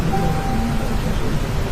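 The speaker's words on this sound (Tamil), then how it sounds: "நேற்று இரவு கடுமையான மழை பெய்திருக்கிறது, தொடர்ந்து பெய்து கொண்டிருக்கிறது." Heavy rain pours steadily during a cyclone storm in Tamil Nadu, a dense, constant roar of rainfall with low rumbling underneath that fits distant thunder, loud and unbroken with no voices.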